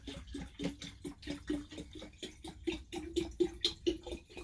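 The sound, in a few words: water filling a container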